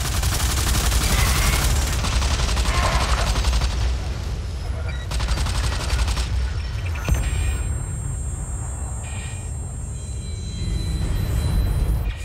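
Gunfire in the shooter Blacklight: Tango Down, with continuous loud rapid shots and booming rumble, a few distinct sharp reports, a high electronic whine later, and some talk underneath.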